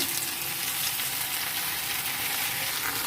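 Potatoes for a meat curry fry in hot oil in a pan, giving a steady, close, dense sizzle that runs without a break, with no voices over it.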